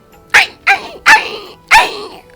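A man imitates a dog barking, four sharp, loud barks with short pauses between them, close to the microphone.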